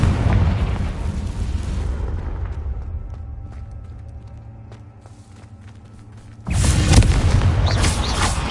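A Confringo blasting spell explodes in Hogwarts Legacy: a loud rumbling burst fades into a low hum with small crackles, then a second sudden, forceful blast hits near the end. No speech.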